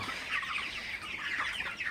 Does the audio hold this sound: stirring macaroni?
no